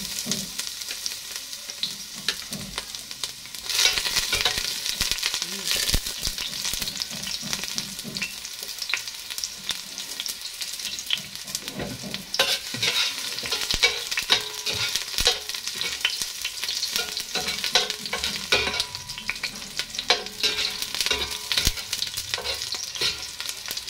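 Garlic fries in a little oil in a pan, giving a loud, continuous crackling sizzle close by that runs unbroken throughout, dotted with sharper pops and stirring noises, with no talking.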